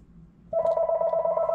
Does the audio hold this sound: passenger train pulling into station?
no